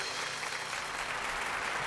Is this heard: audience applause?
yes